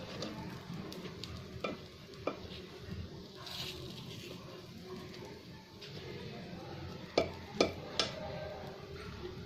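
Gunta ponganalu batter fries in oil in a pan, giving a soft, steady sizzle with occasional crackles and light clinks, fairly faint and close, while a voice talks quietly at times.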